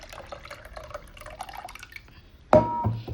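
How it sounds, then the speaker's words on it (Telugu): Tamarind juice poured into tomato rasam in a pot, quiet dripping and clinks followed by a sudden splashing pour near the end, close and moderately loud. "ఆ చింతపండు రసం కూడా ఇందులో పోసుకున్నాను"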